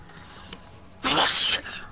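A single sharp sneeze, loud and close, bursting out about halfway through, preceded by quiet background and a brief faint click.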